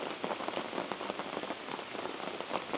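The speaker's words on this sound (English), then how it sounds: "It was raining pretty good, but now it's pouring. I'm sure you can probably hear it on the mic." Heavy rain pouring down during an overlanding trip in the Georgia storms, a dense, steady roar of drops pattering close to the microphone with no voices.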